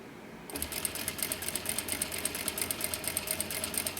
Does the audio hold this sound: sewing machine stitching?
yes